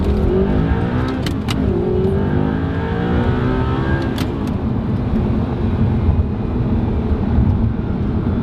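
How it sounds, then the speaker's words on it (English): Audi R8 V8 supercar at full throttle with its exhaust partly opened, a loud, close engine and exhaust roar that climbs steadily through the revs, broken by sharp gear-change blips, with no talk. "you'll be able to really sort of hear the V8 sound"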